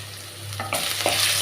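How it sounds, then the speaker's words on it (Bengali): Potatoes frying with turmeric are stirred with a spatula, a close scrape and clatter against the pan cutting into a steady sizzle that swells louder after the stir, no voices. "দিয়ে একটু নেড়ে চেড়ে নিলাম আলুটাকে খুন্তি দিয়ে"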